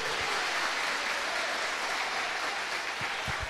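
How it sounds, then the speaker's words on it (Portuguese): Church congregation clapping during a worship service, a steady wash of many hands applauding at moderate level throughout, with a few low thumps near the end. "Aplauda mais forte ao Senhor."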